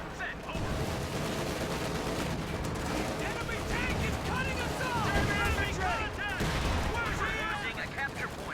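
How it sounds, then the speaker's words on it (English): Tank cannons fire at a Sherman tank in an OKW versus USF strategy video game battle, with booming blasts over a continuous dense din of gunfire and explosions and faint in-game voice chatter mixed in. "now I'm just going with both my tanks to take out this Sherman"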